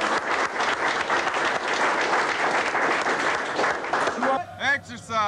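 A crowd claps in a sustained round of applause for a soldier, steady and fairly loud, ending as a voice takes over near the end.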